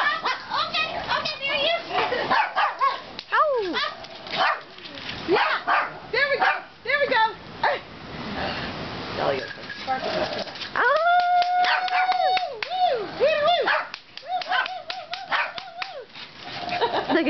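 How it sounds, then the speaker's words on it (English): A dog barks and howls repeatedly outdoors, rising yelping howls mixed with sharp barks, while someone talks over it. "What you barking at?"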